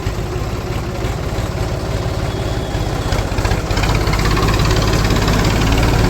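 A heavily loaded tractor engine runs continuously on a farm trip ahead of wheat sowing, a loud close diesel rumble with a steady knocking throb that grows slightly stronger toward the end.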